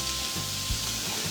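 Onions frying in hot oil with a steady, loud sizzle, a continuous crackling hiss with a faint tone underneath and no voices.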